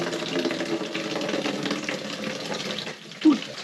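Water runs steadily from an RV faucet during a hot water heater test, a continuous close splashing flow that stops near the end with a brief bump.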